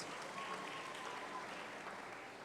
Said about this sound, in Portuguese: Você pode sentar e aplaudir o Senhor Jesus mais uma vez.